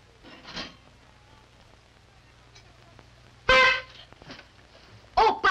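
A few short, sharp honks of a horn sound loud and close, separated by quiet stretches with a faint voice.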